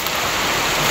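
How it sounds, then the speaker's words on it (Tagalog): Heavy rain pours down outdoors where there is no shelter, a loud, dense roaring hiss that stays constant for the whole brief moment, close and with no talking. "Kasi ang lakas ng ulan bro."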